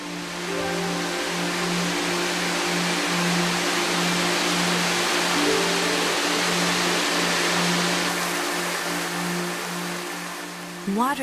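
Water pours steadily over the cliff at Shiraito Falls, where more than 100,000 tonnes fall each day, making a continuous loud broadband roar with a faint low hum running beneath it.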